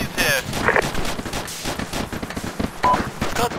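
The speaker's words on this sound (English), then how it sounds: "Also heavy fire from the west." Gunfire in the military shooter game Arma 2, with dense bursts of shots and explosive cracks crowding the whole moment, loud and continuous, mixed with game noise and talk.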